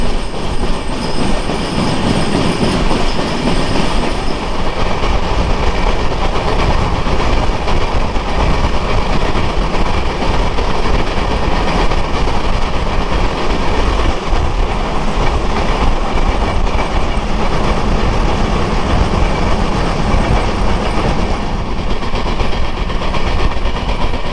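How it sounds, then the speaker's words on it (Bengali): Madhumati Express entering platform one at Shibsar railway station rolls in with a loud, sustained rumble and clatter of wheels on rails, a faint squeal of wheels, and no talk. "ট্রেন এই মুহূর্তে প্রবেশ করলো শিবসর রেলওয়ে স্টেশনের প্ল্যাটফর্মে এক নম্বর প্ল্যাটফর্ম"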